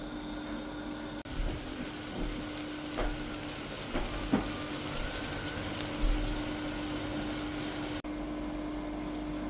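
Brinjal roasting in a pan over a low flame, a steady close sizzle with a few sharp crackles and pops scattered through, no talking.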